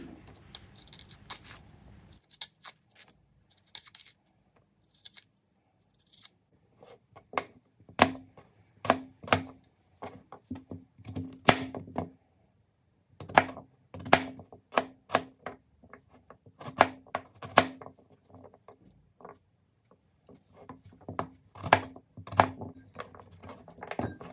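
Peeled turnips are chopped into small pieces with a knife on a board: close, crisp strikes in irregular bursts with short pauses between, and no talking.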